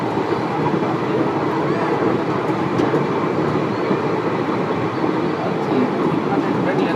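Passenger train on the Prayagraj to Lucknow line heard from on board, a steady low rumble with rhythmic clatter of wheels on rail, constant and close throughout with no talk.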